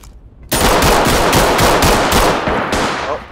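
Rapid gunfire from the tactical shooter game Ready Or Not erupts after a brief quiet start, a loud, dense automatic burst running continuously with repeated sharp shots to the end.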